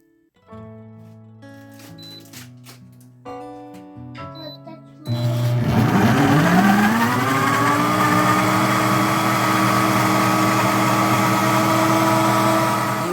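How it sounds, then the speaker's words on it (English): A blender whirs up tomatoes, blended mbongo and onion for a spicy Cameroonian black stew, a loud steady motor roar kicking in after a few seconds of clunking and knocking as the jar is set up. "I'll go ahead and add these ingredients with the tomatoes in the other blender"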